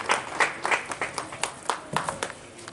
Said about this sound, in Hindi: जोरदार तालियों से सभी का सम्मान करें।